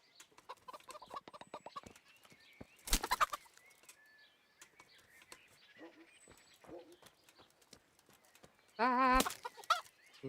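Chickens cluck in the video game Kingdom Come: Deliverance, with scattered close clucks, squawks and bursts of flapping wings. Loud flurries come near the start and near the end.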